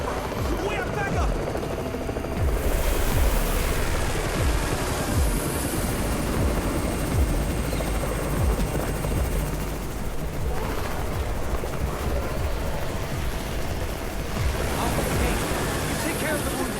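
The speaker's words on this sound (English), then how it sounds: "It's the Raven's chopper! We have backup!" A helicopter arriving in the zombie-apocalypse video game Undawn, a dense continuous rotor roar mixed with battle noise and rumble, loud and steady throughout, with voices under it.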